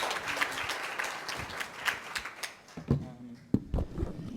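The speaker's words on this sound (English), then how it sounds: "Let's give another round of applause" A round of audience applause at a university talk, scattered clapping with individual distinct claps standing out, dying down as a voice begins speaking near the end.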